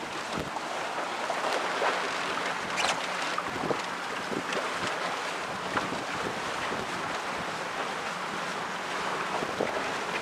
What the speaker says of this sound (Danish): Mye vanskelig vind.